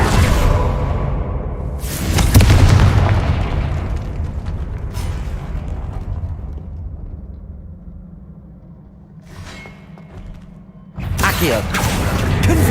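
Confringo fire spell explosions in Hogwarts Legacy, a series of booming blasts with whooshing tails, several separate hits spaced across the stretch, loud and close, with a voice casting the spell.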